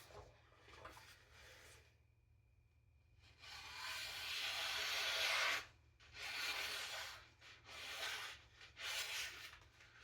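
A kitchen knife is sharpened on a diamond plate with curved roller-coaster strokes, giving a faint, close gritty scraping that comes in several strokes separated by short pauses.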